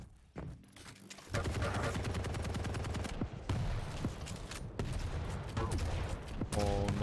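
Rocket launcher fire in the video game Quake during a pro grand final match, a dense, loud stream of gunfire and blasts running almost continuously after a short opening, with quick bursts and booms layered over game sounds.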